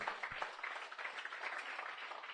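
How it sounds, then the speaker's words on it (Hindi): A church congregation claps together as an offering to the Lord, a soft, distant wash of many hands clapping at an even level throughout. "जोर से तालियां बजाएंगे हम."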